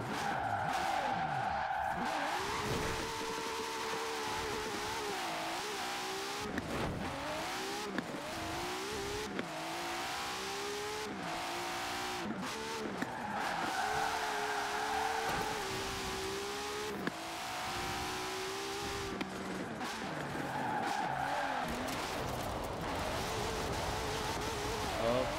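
Sustained tire skidding and drifting from a car in the racing game Forza Horizon 4, with a steady engine drone and squealing tires sliding through long drifts, loud and continuous throughout with brief dips between slides.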